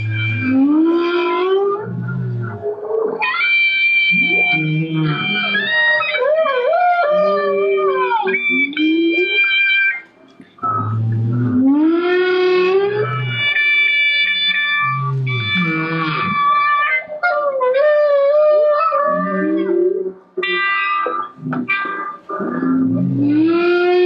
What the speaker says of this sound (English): Humpback whales, as you all probably know, this crowd, they change their songs from year to year.